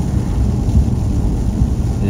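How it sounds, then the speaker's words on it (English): Rain and rumbling thunder in Ireland make a dense, loud, low wash that holds steady, with some rolling swells and no clear voices. "Is it raining in Ireland?"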